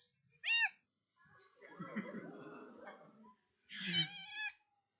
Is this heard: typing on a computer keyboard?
no